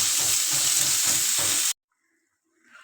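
Momo dumplings frying in a pan, a loud steady sizzle with rhythmic stirring pulses that cuts off abruptly, leaving near silence with faint rustling.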